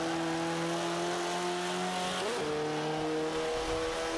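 KTM X-Bow RWD race car in Forza 5 racing game, engine droning steadily with the pitch dropping and then climbing again as the throttle is lifted and reapplied, loud and continuous with no talk.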